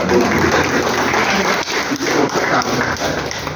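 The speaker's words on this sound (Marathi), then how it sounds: "पुन्हा एकदा मी टिळक साहेबांचं सगळ्यांनी टाळ्या वाजून त्यांचं कौतुक" An audience at a lecture applauds the speaker Tilak, a loud, continuous clatter of many hands with slight dips in intensity, and faint voices murmuring underneath.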